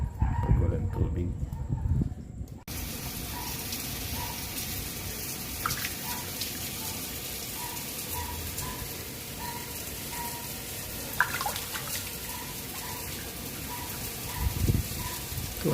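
Tap water runs steadily into a catfish farming tank, a constant rushing splash that continues throughout, with a person speaking briefly at the start and distant rooster crows in the background.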